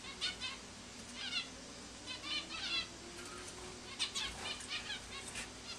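Trapped birds beat their wings in several quick, soft bursts of flapping, scattered and fairly faint, with no talking.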